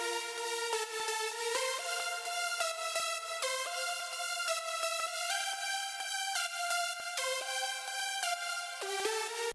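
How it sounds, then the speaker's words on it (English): Lead melody from one synthesizer layered with one violin, played alone as a sustained, bright stepwise line of steady notes with rich harmonics, loud and continuous, no voices. "The lead is really basic. Just used one synthesizer and one violin."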